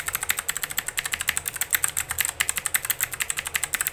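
Rapid, crisp clicking of clicky mechanical keyboard switches on a Langtu LT84, keys pressed in a fast irregular typing rhythm, close and distinct with no talking.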